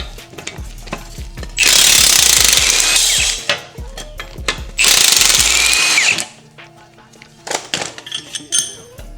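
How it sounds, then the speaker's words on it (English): Impact wrench with a 19mm socket removing rear subframe bolts on a Mercedes-Benz 190E, two loud sustained hammering bursts of about two seconds each, close up, followed by scattered clanks and tool handling. "I'm going to start this by removing these bolts in the back using a 19mm socket and my impact."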